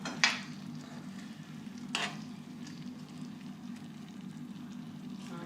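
Apples stirred through caramel in a pan give a steady low sizzle and bubble, with two sharp spoon knocks against the pan near the start and midway.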